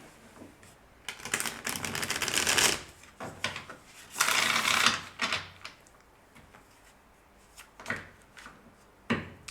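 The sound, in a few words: shuffling tarot cards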